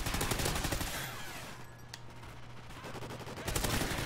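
Rapid automatic gunfire in Call of Duty Ghosts multiplayer, steady bursts of shots that ease off mid-clip and then resume loudly near the end.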